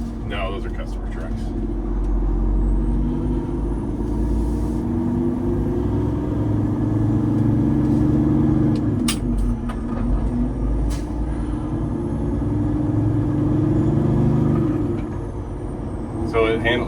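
A Peterbilt 389 truck with a slammed air ride setup rolls along a crowned road, its steady low engine and road rumble droning close throughout, with an occasional air hiss and people talking over it.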